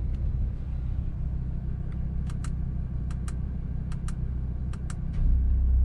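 The engine of an Audi RS3 idles after starting, a steady low rumble inside the car with light clicking on top and a swell in level near the end.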